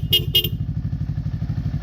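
Two quick bright beeps from a Denso compact horn on an FKM Falcon X400 motorcycle at the start, then a steady idling engine putters underneath.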